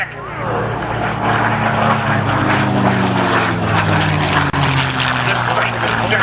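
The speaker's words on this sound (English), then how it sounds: "Gets through that 350 miles an hour as he brings the Mustang right down onto the deck." North American P-51D Mustang makes a fast low pass at about 350 mph during an air show demo, its propeller engine roaring loud and continuous, with a shifting pitch as it sweeps by.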